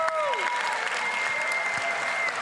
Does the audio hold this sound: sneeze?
no